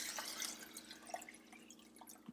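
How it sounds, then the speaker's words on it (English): Water poured into ingredients for a Nigerian rice-ball dish being prepared in a kitchen, a faint trickling and dripping with small splashes, quiet and close, with no voices. "You want me to add the water?"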